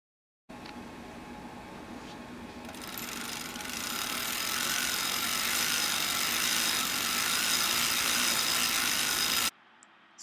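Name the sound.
LT150 knitting machine being cranked, knitting single feed jersey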